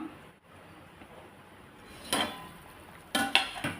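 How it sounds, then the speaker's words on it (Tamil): Metal clinks against a pot twice, a lid lifted and set down, over a quiet hiss of simmering tamarind curry with eggplant and drumstick in a calm kitchen. "நம்ம குழம்பு ஓப்பன் பண்ணி பார்த்துருவோம்"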